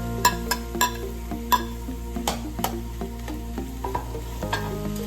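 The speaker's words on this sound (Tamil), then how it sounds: "இப்போ வெங்காயம் நல்லா வதங்கிடுச்சு. இப்போ இது கூட நம்ம தக்காளி சேர்த்துக்கலாம்." Onions sautéing in a pan for a spicy onion-tomato kaara chutney as tomatoes are added, a steady close sizzle broken by sharp spatula clinks and scrapes against the pan at an irregular rhythm, no voices.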